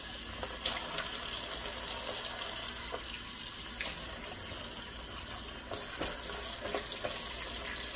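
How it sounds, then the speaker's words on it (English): Cold water runs steadily from a kitchen tap while a steak is rinsed under it, a continuous hiss and splash with faint irregular clinks and spatters, fairly quiet, with no talking. "And wash it by using cold water."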